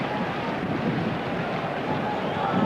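Wind buffeting the microphone on a windy night at a 1992 Sunderland versus Chelsea football match, a steady, close broadband roar that holds without a break and with no clear voices.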